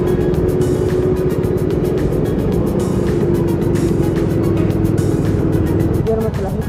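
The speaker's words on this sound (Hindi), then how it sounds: "देखिए कैसी चल रही है भाई गाड़ी, यहाँ तक कि बाइक भी धीरे धीरे धीरे धीरे चल रही है।" Heavy traffic climbs the Chilpi Ghati ghat road in Chhattisgarh, with trucks, cars and bikes moving slowly. Engines drone and hum loudly and continuously close by while people talk over the noise.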